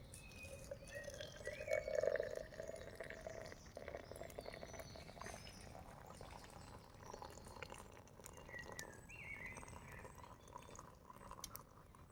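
Hot water from a Ghillie Kettle camping kettle pours into a big cup holding a couple of tea bags outdoors, a faint steady trickle with soft drips over light background noise.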